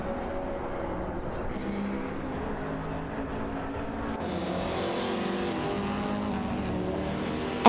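In a video game race, several racing cars roar away in a steady, droning engine blend that shifts upward as the pack speeds off, continuous and fairly loud with no talk.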